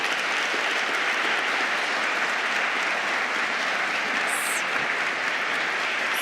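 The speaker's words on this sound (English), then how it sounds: "let's applaud again" An audience at an academic conference applauds steadily during an award presentation, dense clapping filling the room evenly from start to end without a break.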